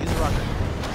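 A rocket launched in an action video game makes a dense, roaring blast with a sustained rumble that fills the whole second, loud and close.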